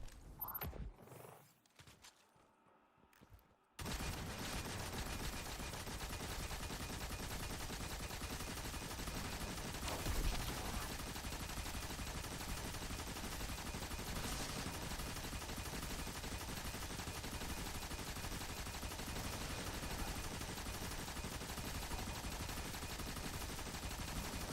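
Sustained automatic fire from the Unwavering Duty machine gun in a video game, an unbroken dense roar of rapid shots running on and on after a few scattered bursts at the start.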